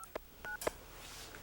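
Touch-tone keypad dialing on a phone in a prison phone room: a few quick separate beeps in a row, clear but fairly quiet, against a low room hum with no talking.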